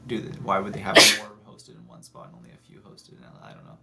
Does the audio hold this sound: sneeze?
yes